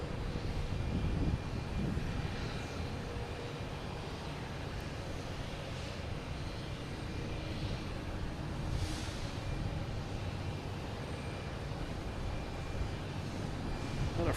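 A Frontier airliner in special livery arrives at Boston Logan Airport, its engines a steady, broad roar that holds at constant loudness throughout, with some breeze noise mixed in.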